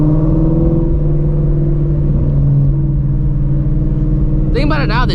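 A Shelby GT350 engine burbles in a steady low rumble throughout, with a person talking over it and a brief higher voice near the end.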